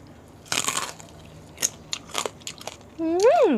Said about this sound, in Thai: กรอบคักเอพี่น้องเลย